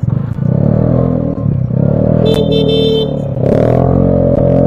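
Heavy traffic on Aguinaldo Highway toward Tagaytay, with loud close engine rumble from passing cars and motorcycles, a brief clatter and rising revs as vehicles move past, steady throughout with no talking.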